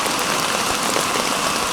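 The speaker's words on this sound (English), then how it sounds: "So it's still raining outside." Steady rain falls outside during a backpacking trip at Seneca Creek and Spruce Knob, West Virginia, a constant dense patter drumming evenly with no voices.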